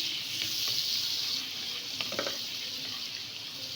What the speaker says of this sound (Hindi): तो सही तरीके से हम मिक्स करेंगे ताकि बटर जो है मेल्ट हो जाए।